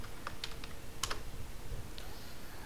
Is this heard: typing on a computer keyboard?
yes